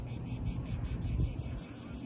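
Cicadas at a beach in Italy in summer, a dense continuous buzzing chorus with a pulsing rhythm over low wind and surf rumble.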